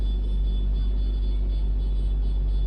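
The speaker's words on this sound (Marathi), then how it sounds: "गाडी स्टार्ट केली." A car engine idles just after being started for a night departure, heard from inside the vehicle as a steady, fairly loud low rumble with no talking over it.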